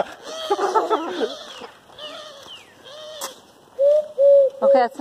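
A mourning dove coos nearby in a short run of low, hollow notes. The last three hoots are loud and clear, and faint voice-like sounds come before them.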